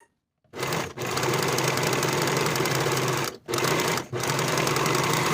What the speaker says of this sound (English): Sew or serge with a 3/8 inch seam allowance